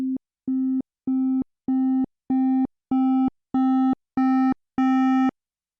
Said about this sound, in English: it will begin to clip or chop off our sound